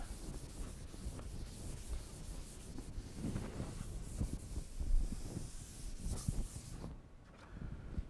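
Chalk or marker figure being rubbed off a board to erase it, a steady close scrubbing and rubbing texture that runs for several seconds before easing off near the end.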